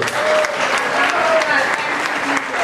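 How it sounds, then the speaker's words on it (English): At a deliverance service, a congregation claps continuously in a dense, loud wash, with voices audible underneath. "Clap for Jesus."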